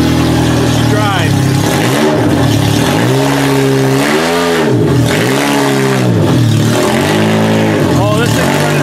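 A car engine running rich revs repeatedly while driving, loud rising and falling surges in an uneven rhythm, with talk over it.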